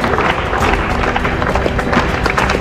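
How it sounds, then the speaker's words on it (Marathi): Crowd applause and cheering at a celebration rally for the Gujarat Giants team, a dense, steady wash of clapping and noise throughout with voices mixed in. "तर एकदा जोरदार टाळ्या."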